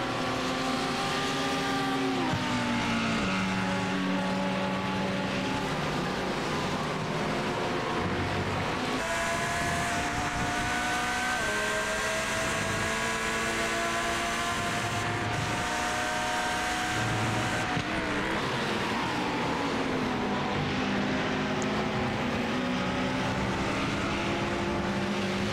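Mercedes GT race cars at Donington Park's national circuit in a UK GT round scream past, their engine notes sliding up and down through gear changes as two cars run close together, loud and continuous with no talk.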